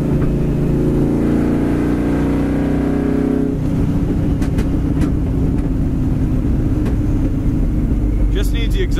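A 1970 dark green Camaro with straight pipes accelerating along a road, its engine rumbling loudly and climbing in pitch before settling into a steady drone, with a few sharp clicks near the end.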